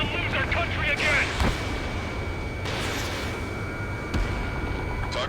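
Enemy fire strikes an air base under attack in Ace Combat 7, with heavy booming artillery and gun bursts rumbling over a constant din, several sharp impacts standing out amid the loud, continuous battle noise.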